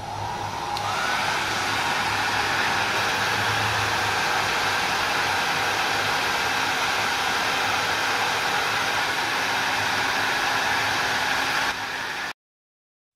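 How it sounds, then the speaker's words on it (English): A hair dryer roars steadily at close range while blowing air through a digital liquid flow meter, a constant whooshing hum that holds for about twelve seconds, then cuts off abruptly. "Now we turn on the hairdryer"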